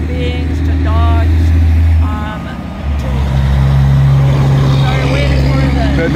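A big tanker truck rolls past on a busy street, its low engine drone swelling loudly and holding steady, with a brief dip before the rumble returns; a voice talks over the traffic noise.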